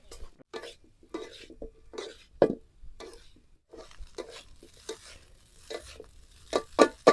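Egg pieces frying in a pan for street-style double egg chicken noodles, with choppy metal clanks and spatula scrapes in uneven bursts over a light sizzle, close by, no speech.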